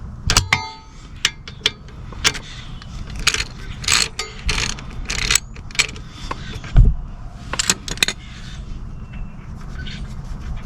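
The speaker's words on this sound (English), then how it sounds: "take your 12mm socket and remove this bolt here" A 12mm socket ratchet loosening the oil drain plug bolt on a Honda Navi, giving scattered clicks and mechanical ratcheting bursts up close, with no talk.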